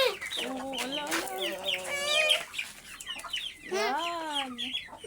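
Several chickens cluck and squawk close by in repeated, overlapping bursts, with rising and falling calls carrying on through the whole stretch.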